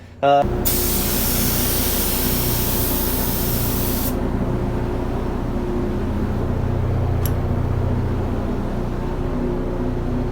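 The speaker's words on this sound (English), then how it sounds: "I prefer to use this CA Technologies air assisted pump." An air-assisted pump paint sprayer spraying glaze on cabinets in a spray booth hisses loudly in a sustained burst for a few seconds, then a lower pump hum continues steadily.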